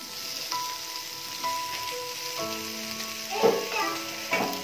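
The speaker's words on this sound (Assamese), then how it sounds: "এতিয়া ইয়াতে আমি পৰ্ক পিসো দি দিম।" Cut pork pieces for chilli pork sizzle in a hot pan, a continuous moderate hiss with brief louder spurts, while children's voices and tonal background sounds carry on behind it.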